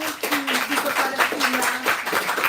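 An audience claps steadily after readings at a radical book fair launch event, a dense patter of many hands near and loud, with a voice talking over it.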